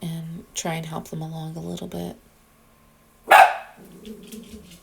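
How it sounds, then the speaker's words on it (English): A dog lets out a single loud, close bark in a home kitchen where sourdough hamburger buns are being shaped. A person talks steadily before it, and quieter talk resumes afterward. "That was my dog."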